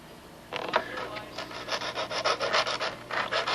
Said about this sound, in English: dress them off with a little dowel with some sandpaper on it